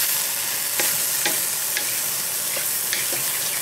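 Sliced almonds stir-fried in a pan for a pineapple, vegetable and chicken stir-fry give off a constant close sizzle, with a few sharp scraping taps from stirring spaced through it and no voices.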